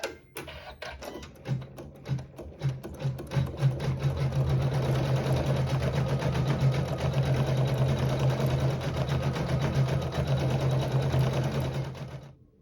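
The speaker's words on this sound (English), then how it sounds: "sew a decorative stitch along fabric 6" A sewing machine sews a decorative stitch along fabric, starting with a few slow thumps and settling into a fast, steady, loud mechanical rattle that fades out at the end.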